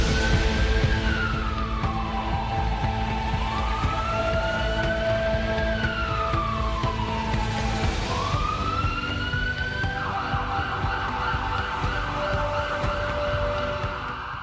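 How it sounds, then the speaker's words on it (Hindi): Police vehicles escorting oxygen tankers through Delhi sound their sirens loudly and continuously, wailing up and down over traffic noise, with the siren switching to a faster yelp pattern near the end. "राजधानी में ऑक्सीजन के टैंकरों को एस्कॉर्ट करती पुलिस की गाड़ियां सायरन बजाती हुई दौड़ रही हैं"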